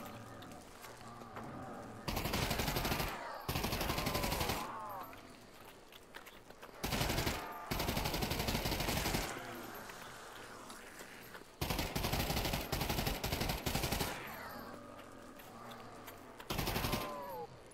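Repeated bursts of rapid automatic gunfire cut down zombies in the VR shooter Der Riese, with several loud sustained volleys separated by quieter gaps of movement and game noise.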